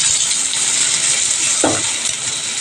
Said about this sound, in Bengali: আর এই রকম মাছ ভাজা হচ্ছে, ঝাঁজ লাগছে